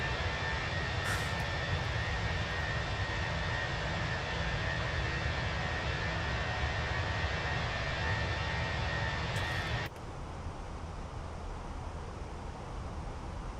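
An Airbus A320 in a flight simulator rolls down the runway on takeoff, a steady roaring jet-engine drone with a high whine; the roar drops to a lower, quieter level near the end.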